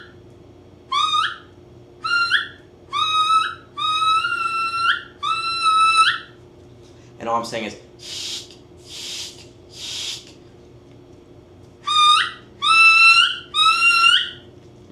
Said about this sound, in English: almost like a whistle sound out of your mouth reed.